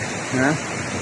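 A river swollen after the Wayanad landslide rushes past a house in a steady, close broadband roar, with a brief voice rising over it midway.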